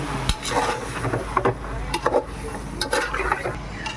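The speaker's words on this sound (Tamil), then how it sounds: "இந்த மசாலாவை இந்த கறியோடு அப்படியே சேர்த்து அப்படியே கிண்டிக்கணும்" A spoon stirs masala into chicken curry in a cooking pot for seeragasamba chicken biryani, giving irregular scraping and clinking knocks against the metal over a soft sizzle, close and fairly loud.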